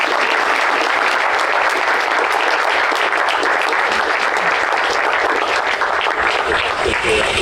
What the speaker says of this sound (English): Give a round of applause to Monet.